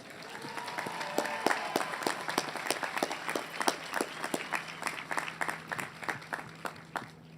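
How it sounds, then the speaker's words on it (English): A graduation commencement audience applauds, a sustained round of many hands clapping that builds and stays steady at moderate distance, with no speech over it. "I ask the class of 2022 to give them a round of applause."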